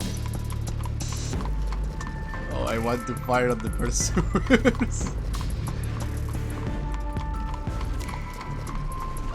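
Hooves of horses drawing a carriage gallop in the Fallen London video game, a steady clip-clop under game music and effects, with a voice talking over them.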